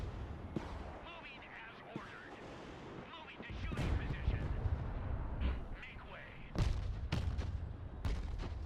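Tank cannons fire in the Broken Arrow video game, heavy booming blasts and crackling gunfire rolling through a busy battle, with several sharp reports clustered near the end.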